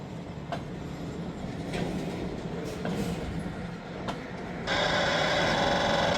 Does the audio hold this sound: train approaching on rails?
yes